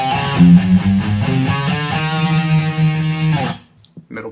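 Electric guitar with light distortion through a Line 6 combo amp, a run of gritty picked notes and chords that sustain and then cut off, close and loud with nothing else over it.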